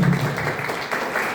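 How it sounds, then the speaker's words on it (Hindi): Loud clapping from an audience at a health awareness program in Sagar, a short burst of applause with a low murmur of voices underneath. "जोरदार और जोरदार ताली"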